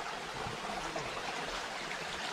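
A small forest stream runs at the source of Kozhippara waterfall in Kerala, a soft steady gurgling rush heard fairly close and unbroken, with no voices.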